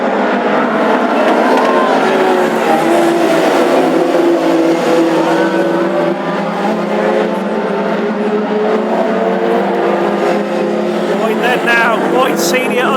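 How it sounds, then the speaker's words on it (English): Classic hot rod race cars in a 25-lap feature event at Ipswich in Suffolk roar continuously around the track, engines droning and shifting pitch close by, with race commentary talking over the noise. "Young Harry Stewart not giving up, and he's really the sandwich between those two white coloured cars"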